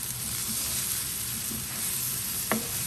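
Boiled potatoes stirred into sizzling spices in a pan, a soft continuous sizzle under faint scraping, with one sharp utensil clink near the end.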